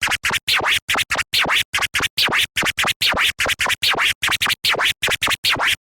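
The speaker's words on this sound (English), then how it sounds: "So there's a quick example of that baby scratch and scribble scratch." A rapid, unbroken run of DJ turntable scratches alternates baby scratches with quicker scribble bursts, sharp and close, chopping the record sound into a steady stuttering rhythm.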